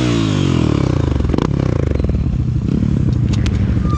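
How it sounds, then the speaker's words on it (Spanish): A Honda CB Twister motorcycle engine with a settled motor and fuel injection runs loudly and close, its steady rapid firing rhythm giving a rough clattering rumble that shifts pitch slightly like light revving. "Motor asentado, motor de CB Twister"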